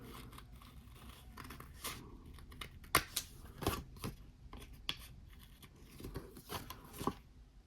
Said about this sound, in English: it gives a nice, smooth, clean guide cut with the scissors